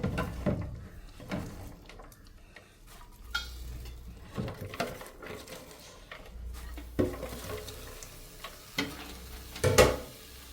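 Chopped spinach (palak) being stirred into a paneer gravy in a pan, with intermittent scraping and knocking of a spoon against the pan and a faint sizzle, close and moderately loud, with no talk.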